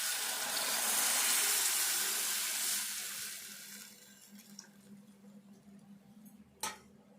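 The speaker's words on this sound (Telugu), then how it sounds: "ఇప్పుడైతే ఇట్లా వేగినాక ఈ చింతపండు సూపు పోసుకోవాలి." Tamarind water poured into a hot frying pan over fried ingredients for an old-style egg curry, giving a loud broad hiss and sizzle that gradually fades, with a short sharp clatter near the end.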